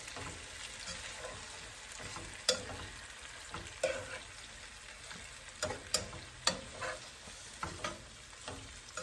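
Fish and tomatoes frying in a pan at home, a soft steady sizzle with occasional sharp clicks and stirring knocks, fairly quiet and close, with no talk.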